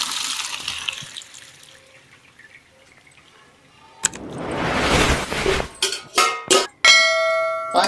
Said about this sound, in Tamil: இப்போ எடுத்து இதை வடிகட்டிக்கலாம்.